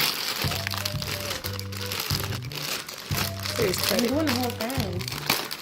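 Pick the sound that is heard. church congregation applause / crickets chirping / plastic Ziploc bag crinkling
plastic Ziploc bag crinkling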